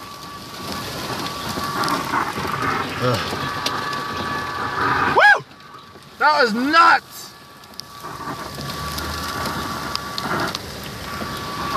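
Heavy rain and hail hammer a vehicle during a thunderstorm, a dense roaring patter that briefly drops away and then resumes, with excited shouting over it.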